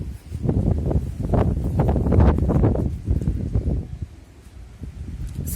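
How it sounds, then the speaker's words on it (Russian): Strong gusting wind in a city under clouds roars against the microphone in loud buffeting surges, easing off near the end, with no voices. "сейчас такой ветер разыгрался"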